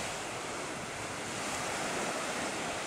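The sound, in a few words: ocean waves on Playa Cristal beach, Tayrona Park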